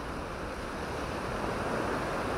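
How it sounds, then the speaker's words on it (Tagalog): Sea waves and a strong current, a steady broadband wash of surf with rushing water and some wind noise on the microphone, continuous and fairly loud, with no voices. "Ay, may alon, ang lakas ng agos."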